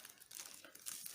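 Soft, close crinkling of a plastic bag being handled during homemade potato doughnut making, a brief burst of rustles and crackles.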